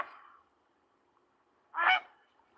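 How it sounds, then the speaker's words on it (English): A great blue heron gives one harsh, croaking squawk, loud and fairly close, after a faint rasp at the start, with quiet in between. "That's the great blue heron."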